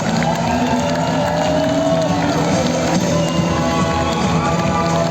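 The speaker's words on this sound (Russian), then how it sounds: "давайте подарим бурные аплодисменты нашим гостям еще раз" Audience at a press conference in Yakutsk with fighters Fedor Emelianenko and Vadim Nemkov applauding the guests, a steady dense wash of clapping and crowd noise held at even loudness throughout.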